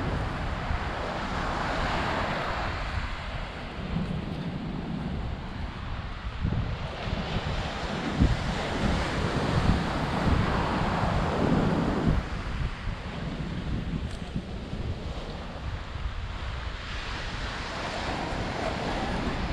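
Surf rolling onto the coarse-sand beach at Praia do Buraco in Balneário Camboriú, a steady wash of waves with wind buffeting the microphone throughout, no speech.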